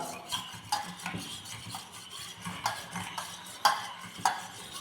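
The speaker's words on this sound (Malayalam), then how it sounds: "ഞാൻ മുട്ട കലക്കുവാണേ" Eggs beaten in a bowl with a utensil, a quick irregular run of light scraping, tapping stirs with sharper clinks against the bowl, close and moderately loud with no talk.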